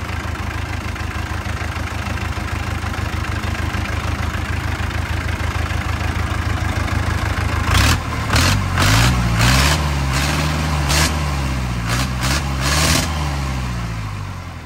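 A non-turbo 4102 diesel engine of about 105 hp idles steadily and close up, with a deep even throb. Around midway, louder bursts and a wavering low rumble join the running engine.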